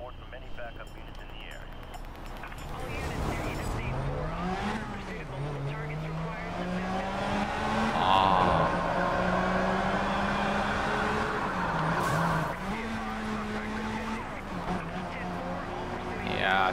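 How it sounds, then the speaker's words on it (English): A Jaguar or Ferrari race car engine in Need for Speed Rivals drones and revs up and down, with shifting pitch and faint tire noise, while people talk over it. "Yeah, I really like the sound of this car."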